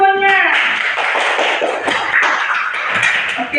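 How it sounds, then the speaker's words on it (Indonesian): A classroom of students claps for a presenting group during a religious education lesson, a short scattered burst of hands with a voice briefly heard at the start. "tepuk tangan dulu semuanya"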